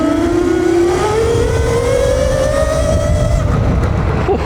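An Alibaba EM22 72v electric bike accelerates hard, its motor whine rising steadily in pitch over a constant loud rush of wind and road noise.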